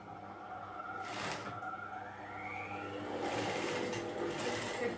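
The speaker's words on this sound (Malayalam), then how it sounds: "നമുക്ക് അടിക്കാം സ്റ്റിച്ച് ചെയ്യാം" A sewing machine stitches a nightie with a continuous, close mechanical whirr. The motor's pitch rises as it speeds up and holds steady, pausing only briefly.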